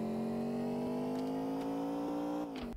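A simulated car engine from a Unity vehicle physics asset drones with a steady tonal hum whose pitch creeps slowly upward and then dips near the end, fairly faint and heard alone.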